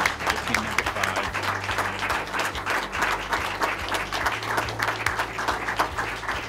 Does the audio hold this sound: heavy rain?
no